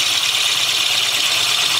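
Drill boring into a wooden hummingbird birdhouse being turned, a steady, loud, even grinding whir held for the whole stretch with no talk.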